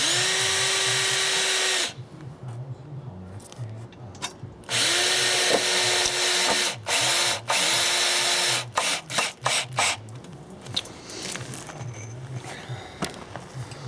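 A power drill drives screws into the wooden frame of a deck, whirring loudly in several long bursts with pitch rising and falling, broken by shorter stuttering pulses and pauses.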